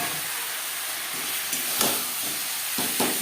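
Tomatoes tipped into onions frying until reddish-brown give a steady, close sizzle and hiss, with a few sharper bursts of spitting near the end; no voices.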